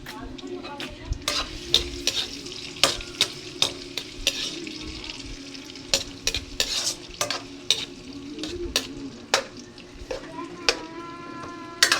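Garlic and onion sizzling in a pan for a Filipino mung bean stew, a steady close frying hiss punctuated by frequent clinks and scrapes of a spoon stirring against the pan.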